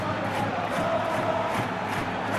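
A stadium crowd roars in a steady, dense wall of cheering during a Real Madrid versus Atletico Madrid match in the PES football video game, with no commentary over it.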